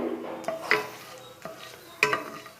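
Whole cloves, cardamom, a cinnamon stick and a bay leaf fry in hot oil for restaurant-style veg fried rice, a soft sizzle broken by a few sharp scrapes and clinks of a spoon against the pan, no voices.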